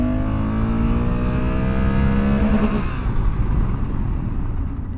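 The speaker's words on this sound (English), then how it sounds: "Let's do a little bit of acceleration here." A 2024 Honda Africa Twin motorcycle accelerates hard up close, its engine note climbing steadily in pitch through the gears for a few seconds before settling into a rougher, lower drone.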